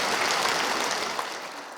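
Applause from a lay congregation at a Catholic Marian Movement of Priests retreat lecture in Seoul, a steady broad wash of clapping that slowly fades, with no talk over it.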